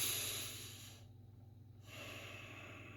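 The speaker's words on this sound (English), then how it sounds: "When we breathe, take a deep breath." Slow deep breathing through the nose, a long loud airy inhale followed by a quieter pause and a steady exhale, heard alone with no talking.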